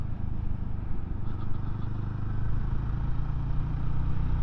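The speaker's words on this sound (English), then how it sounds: "the gear change is nice and smooth. A good positive yet smooth clunk" A BSA 350 Bantam motorcycle engine hums at a steady mid-pitched throb while riding, close and continuous, with a slight rise as it pulls through the gears.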